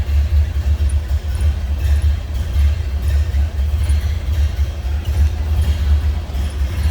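A 1929 Ford Model A Coupe engine running at idle, a loud, steady low rumble with faint clatter on top, close up and without speech.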